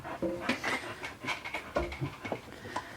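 A dog pants in quick, uneven breaths close by, with a few soft whimpery sounds mixed in.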